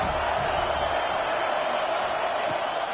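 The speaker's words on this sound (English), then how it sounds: "this crowd trying to help keep them there" Stadium crowd noise from the College Football 26 video game during a Florida at Alabama matchup: a steady, dense roar of distant fans that holds at an even level throughout.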